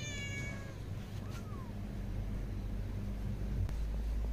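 A cat meows once near the start, a short wavering call close by, followed by a faint second cry over a steady low background rumble, with no talking.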